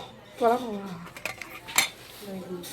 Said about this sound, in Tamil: நல்லா மிக்ஸ் பண்ணிட்டே ஒரு 15 மினிட்ஸ் மிக்ஸ் பண்ணிட்டே கொஞ்ச நேரம் மிக்ஸ் பண்ணணும்.